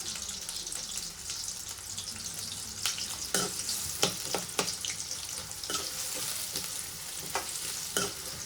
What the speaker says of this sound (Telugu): ఆనియన్ బాగా వేగనివ్వండి